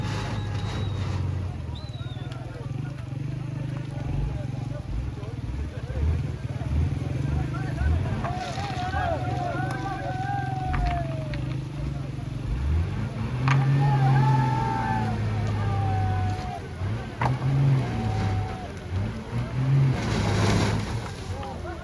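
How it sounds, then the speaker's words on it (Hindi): A stuck bus on a Pakistani road is hauled by a tractor and shoved from behind by a crowd, with a steady, close engine rumble and high whine running throughout under shouting voices. "कुछ लोग इस बस को आगे ट्रैक्टर के साथ बांध के पीछे से धक्का मार के इसको निकालने की कोशिश कर रहे हैं"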